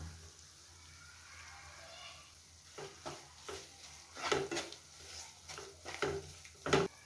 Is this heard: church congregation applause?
no